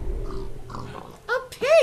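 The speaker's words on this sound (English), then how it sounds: "Oh, pigs! Oh, I'm surrounded by pigs!" Pigs in Minecraft's FTB mod pack let out a pair of short, close, grunting oinks near the end, after a stretch of quieter low rustling.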